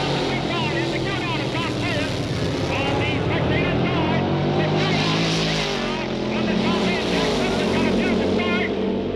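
Early-1960s dragsters at the Winternationals, the Dragmaster Straight Arrow against the McEwen-Adams dragster, roaring down the strip in a loud, continuous engine howl with rising and falling pitch under a commentator's voice.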